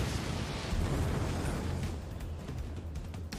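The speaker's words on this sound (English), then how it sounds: "Oh yeah, the explosion." A video game explosion rumbles as a sustained low boom with a dense crackling wash, loud at first and slowly easing over a few seconds.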